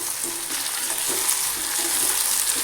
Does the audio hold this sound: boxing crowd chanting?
no